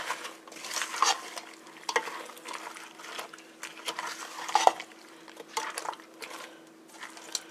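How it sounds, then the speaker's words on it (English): Fresh spinach is stirred into a ham and noodle casserole in a pot, giving soft, uneven scraping and squishing strokes with light clinks at close range, no talking over it. "I'm going to go ahead and add my spinach in here."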